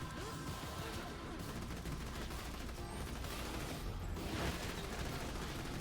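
Sustained rapid gunfire from a weapon in the video game Borderlands 2, a dense continuous barrage of shots that stays loud and steady throughout, with no voices over it.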